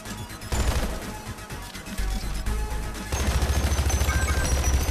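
Rapid gunfire from an AR-15 rifle in the video game Hypercharge Unboxed, loud and close, with dense bursts of shots and crashing impacts building into a steadier, heavier stream of fire toward the end.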